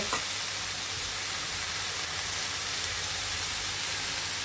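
Bata fish with spices and coriander powder sautés in a pan, giving a steady, even sizzling hiss close by, with a faint clink at the start and no talking.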